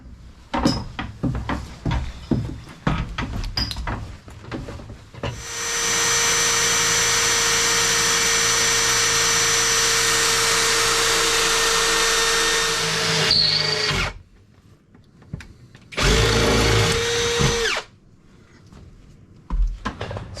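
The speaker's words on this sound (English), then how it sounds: "So I'm just going to drill" A power drill bores holes into a barge door, one long steady whirring run of about eight seconds followed by a shorter second burst, with clicks and handling sounds around them.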